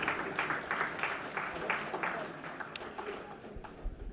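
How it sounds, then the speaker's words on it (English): A lecture audience gives a round of applause after a talk, a moderate stretch of clapping with individual claps standing out, fading gradually toward the end. "So give him a round of applause for that,"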